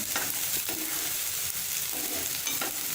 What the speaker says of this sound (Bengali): পেঁয়াজটাকে একটু নরম করে ভেজে নিতে হবে